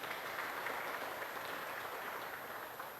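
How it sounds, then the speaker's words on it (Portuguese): Faint, distant applause from a church congregation praising Jesus, a soft continuous patter of many hands under a steady background hiss. "Você pode dar um aplauso a esse Jesus, querido?"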